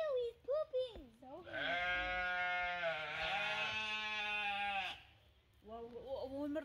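A sheep at Edmonton Zoo lets out one long, strong, wavering bleat, with people talking nearby just before and after it.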